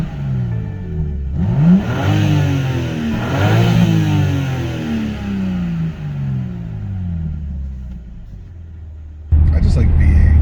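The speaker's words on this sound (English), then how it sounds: "For it being an inline 6, it sounds really good." A BMW M4 Competition's 3-liter inline-six engine revs up and down in rising and falling sweeps, loud and close, then settles to an idle before a sudden louder burst at the end.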